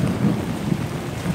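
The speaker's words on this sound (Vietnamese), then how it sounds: "Mọi người chạy dưới cơn mưa." Heavy rain pours steadily on a Saigon street during a storm, with a low rolling rumble of thunder running beneath the dense downpour; no one speaks.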